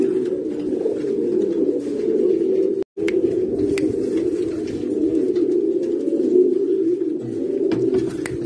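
Breeding pigeons coo continuously in a close, loud, low burbling chorus, with a brief silent gap near the start and faint chirps scattered over the top.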